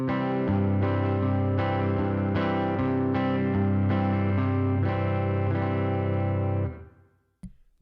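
Electric guitar chords played through a Line 6 HX Stomp tweed-style clean amp preset with Hot Springs reverb: about a dozen strummed chords, loud and steady with a slightly driven edge, ending in a reverb tail that fades, then one short pick noise.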